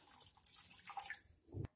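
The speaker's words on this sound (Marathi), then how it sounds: "आता यामध्ये पाणी घालून हे स्वच्छ धुवून घेऊया" Water poured over soaked lentils (dal) to rinse them for palak vada, heard as short splashing bursts and drips that stop with a final pour, close and fairly soft, with no talk.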